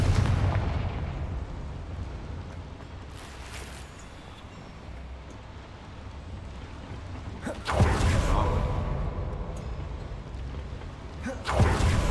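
Confringo blasting-spell explosions in the Hogwarts Legacy video game, deep rumbling booms inside a mine with two sharp loud bursts, carrying heavy low-end reverberation and no talk over them.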